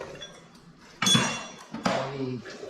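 A hammer and dolly slap dents out of a steel fender on a Boss 429, giving two sharp metallic strikes about a second apart, each ringing briefly over a quiet background.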